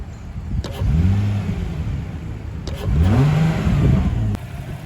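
Nissan G35 V6 engine with stock exhaust and a Z1 plenum spacer installed, revved twice in two rising and falling bursts with idle between.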